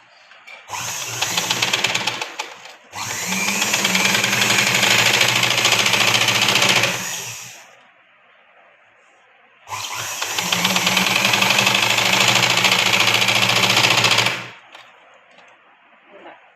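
Electric sewing machine stitching the seam of a crop top and long frock dress, in two long loud whirring runs of about four to five seconds each, separated by a short pause, with no talk.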